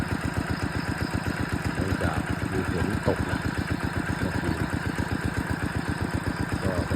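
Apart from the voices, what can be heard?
engine-driven water pump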